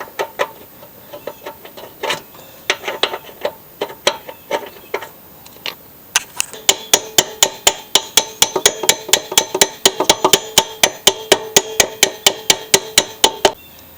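Sharp metallic hammer blows drive a blade adapter onto a lubricated mower shaft on a Craftsman mower, scattered taps at first, then a fast, steady run of loud, close strikes.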